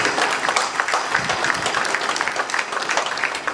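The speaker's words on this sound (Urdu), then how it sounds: "تالیاں بعد میں بجائیے" A political rally audience applauds, a dense burst of many hands clapping close and loud, steady throughout with crisp individual claps standing out.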